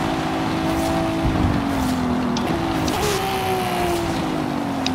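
Nissan Skyline R34 with a drag tune in the Forza Horizon 5 racing game: a loud, steady engine drone that holds a high, even pitch with small shifts in revs, heard alone.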